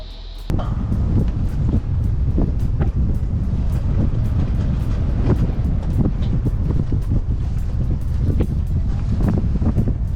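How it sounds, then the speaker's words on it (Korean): Strong wind buffets a sailing yacht at sea, a loud continuous roar with gusty microphone rumble and rattling bursts, steady throughout with no talking. "바람 소리가 진짜 어마어마한데요."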